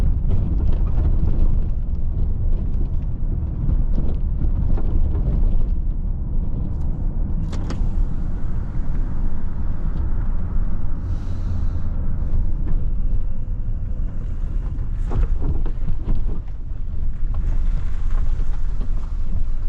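A steady engine rumble from a moving 2008–2022 Dodge Caravan on a short warm-up drive, with wind buffeting and occasional rattles, continuous and fairly loud throughout.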